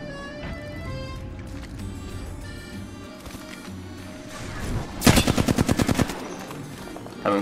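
Automatic gunfire crackles in the battle royale game Apex Legends, a rapid burst of about a dozen loud close shots lasting roughly a second, following quieter game ambience and a few distant sounds.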